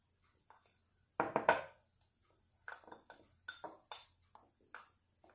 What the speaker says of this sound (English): So then you go ahead and mix up all the dry ingredients together.